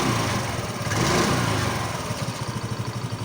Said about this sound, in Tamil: ஸ்டார்ட் பண்ணி ரீசெக் பண்ணி முடிச்ச உடனே வண்டி ஓடுது, சவுண்டை கவனிங்க